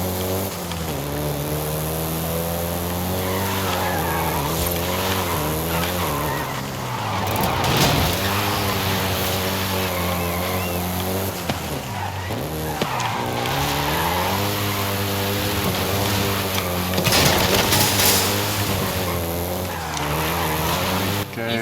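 A Volkswagen Golf GTI in Forza Horizon 5, set in Mexico, revs its engine up and down through repeated shifts, with bursts of tire squeal over a loud, continuous drive.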